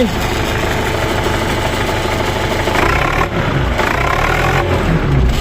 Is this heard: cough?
no